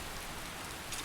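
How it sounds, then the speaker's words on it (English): Steady rainfall from the Rainy Mood ambient rain-and-thunder website plays as an even, continuous hiss of drops, moderately quiet and unbroken, with no voices. "I think Rainy Mood has really nice rain and thunder sounds"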